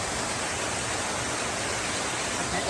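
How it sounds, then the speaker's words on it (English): A loud waterfall pours into a rocky Australian creek lined with rock pools, making a steady, dense roar of rushing water that fills the whole stretch without pause. "I don't even know if you can hear me because the waterfall's so loud."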